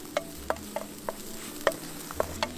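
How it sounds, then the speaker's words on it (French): Mushrooms cooking with garlic in a frying pan, heard as a string of sharp, irregular utensil clicks and scrapes against the pan over a soft, steady background hiss. "Je vais laisser cuire de 3 minutes pour que les champignons s'imprègnent bien du goût de l'ail"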